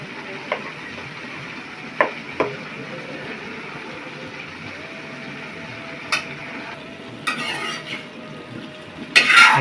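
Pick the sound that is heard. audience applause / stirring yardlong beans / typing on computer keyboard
stirring yardlong beans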